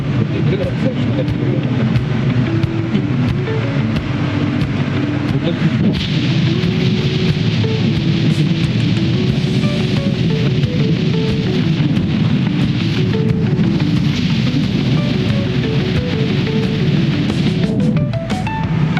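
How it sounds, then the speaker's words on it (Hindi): Loud, steady rush of wind roars around a car cruising at about 116 km/h past mustard fields near Bikaner, Rajasthan, a dense continuous noise filling the whole stretch with low rumble beneath. "आपको हवा की आवाज से पता चल गया होगा कि कितनी तेज हवा।"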